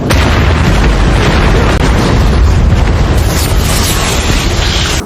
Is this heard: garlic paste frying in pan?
no